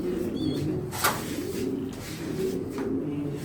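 Pigeons in a loft coo softly and repeatedly, low rolling calls close by, with a faint chirp or two and no talking.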